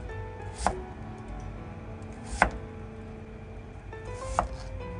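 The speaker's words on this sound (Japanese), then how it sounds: "大根は食べやすい大きさに切るよ" A knife slices daikon radish into pieces about 5 mm wide on a cutting board: three sharp, separate chops, evenly spaced and fairly quiet, with no voices.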